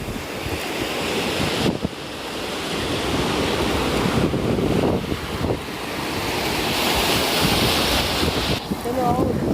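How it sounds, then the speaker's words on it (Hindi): Strong ocean waves surging and crashing at a Karachi beach, a continuous loud roar of surf with heavy wind buffeting the microphone, rising and falling in swells with no clear speech. "हम यहाँ पे पहुँचे, लहरें तेज हो गई"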